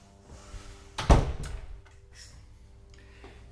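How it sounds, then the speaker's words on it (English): The back door of a bungalow house opens, with a loud close thunk and rattle, then faint handling clicks and quiet room tone, with no speech. "We're going to go in from this door."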